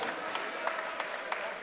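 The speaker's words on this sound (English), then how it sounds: "please put a big round of applause together for both of the fighters in the center of the cage." Crowd at an MMA cage fight applauding both fighters, a steady distant wash of clapping with occasional sharper claps poking through, fairly faint.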